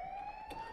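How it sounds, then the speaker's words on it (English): A police car siren sounds as a steady high wailing tone, held nearly level and moderately loud throughout a brief stretch, with no talk over it. "I think I hear police sirens out here"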